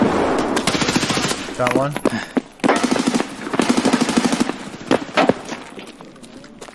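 Gunfire in the video game Escape From Tarkov: rapid bursts of automatic fire rattle loudly through most of the stretch, with scattered single shots, while a player speaks briefly.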